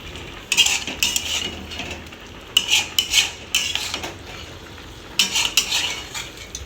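Chicken is stirred and sautéed in a pan for a Bengali coriander chicken dish, a metal utensil scraping and clinking against the pan in several bursts over a faint sizzle.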